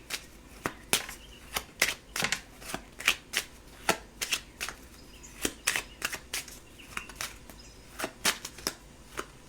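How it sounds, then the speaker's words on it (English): Someone shuffles a Kipper card deck and pulls a card, making a series of sharp riffling snaps and flicks in an irregular rhythm, close and fairly quiet. "I'm going to pull one card from the Kipper."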